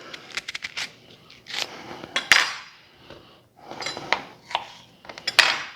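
A knife slicing onion on a board while squash stew is made, irregular bursts of sharp cutting taps and clinks in small clusters, close and fairly loud with short pauses between.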